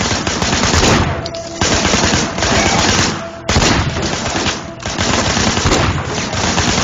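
Loud automatic gunfire in a video game, rattling in long, dense bursts that break off briefly twice before starting up again, with no talking.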